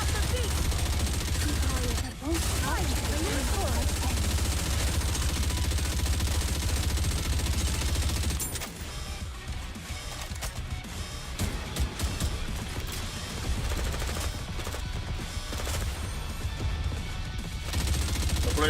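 Rapid automatic machine gun fire from the video game NIKKE, a dense continuous rattle mixed with game music and effects, loud throughout and thinning slightly in the second half.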